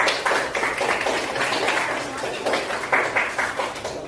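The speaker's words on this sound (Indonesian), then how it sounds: "Tepuk tangan untuk kita." Classroom of eighth-grade students clapping their hands together at the end of a lesson, a dense run of claps of moderate loudness that swells and fades in bursts over a few seconds.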